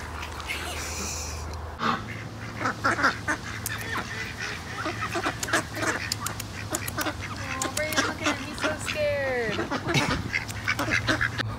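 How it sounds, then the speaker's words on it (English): Ducks quack repeatedly outdoors near a walking path, a steady cluster of close, loud, overlapping quacks and honks with some goose-like calls mixed in, continuing throughout over a low background hum. "there's ducks over here"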